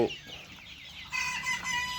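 Broiler chickens about 43 days old cluck and chatter in a shed bedded with sand litter, several birds calling at once, growing busier and louder midway through the short stretch.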